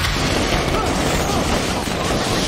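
Fireworks going off in a film scene, a dense, continuous barrage of overlapping bangs and crackles that stays loud and busy throughout, with no pauses between bursts.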